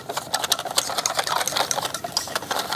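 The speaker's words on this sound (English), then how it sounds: "And then whisk it together." Flour batter for coating crocodile meat is whisked in a bowl, giving a fast, steady clicking and rattling that runs unbroken and fairly close.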